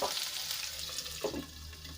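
Capsicum frying in a covered pan for a homemade pizza topping, with a steady close sizzle and a brief stir or clatter partway through, no voices.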